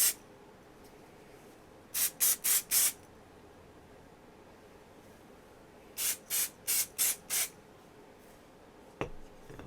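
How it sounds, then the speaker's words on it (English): Color Wow finishing hair spray sprayed in two close bursts of four quick hissing sprays each, loud and crisp over a quiet room, followed by a faint click. "if you have something like the Color Wow, the finishing spray"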